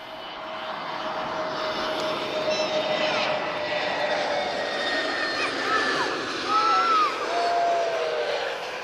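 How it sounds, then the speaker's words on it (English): A jet airliner departing Lisbon airport, a steady rumbling engine roar with whistling tonal whines that rise and bend, fairly near and building slightly toward the end, with faint voices in the background. "Beautiful departure there."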